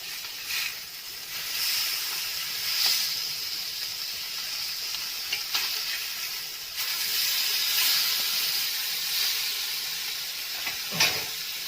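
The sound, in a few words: fish frying in hot oil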